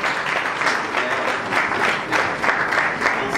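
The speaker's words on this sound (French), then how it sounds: "Est-ce qu'on peut applaudir, s'il vous plaît?" Audience at a church conference breaking into applause, a dense wash of clapping from a crowd that swells and eases in waves, fairly loud and sustained, with a voice faintly underneath.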